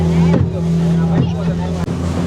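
A motorboat rides on the sea off Udupi on a trip to St Mary's Island. Its engine hums steadily and loudly while wind buffets the microphone, with a few brief bumps and splashy swells.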